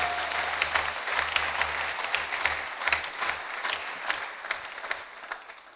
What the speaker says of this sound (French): Est-ce que vous pouvez acclamer très fort pour la gloire de Jésus-Christ?